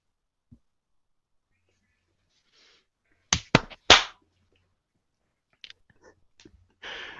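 A few sharp hand claps for syncing podcast microphones land in a quick cluster, close and crisp against near silence, followed by faint scattered clicks and a soft breathy noise.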